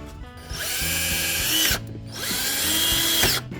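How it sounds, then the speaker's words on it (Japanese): Two bursts of a power drill whirring close by as it drives a screw into a 2x4 wooden board, the motor pitch rising as it spins up, with a short pause between them. "ここにねドリルで揉んでネジをねちょっと打っておきたいと思います"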